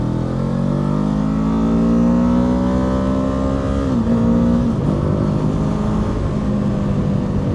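A 2025 Kawasaki Ninja 7 Hybrid motorcycle pulls away from a stop, its engine note rising steadily and loud, with a brief dip near the middle before climbing again, no talk.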